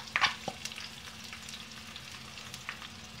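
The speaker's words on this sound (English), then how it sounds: "And fry these onions until they turn dark brown in color." Chopped onion fries in a pan with a soft continuous sizzle, opened by a brief clatter and a few light stirring clicks, close and fairly quiet, with no talking.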